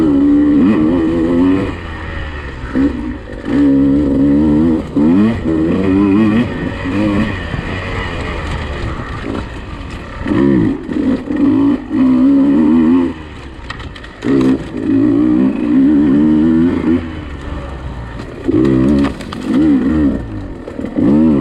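Motorcycle ridden hard around a woods turn track, its engine revving and rising and falling through the turns, close and loud, with the rider talking over it at times.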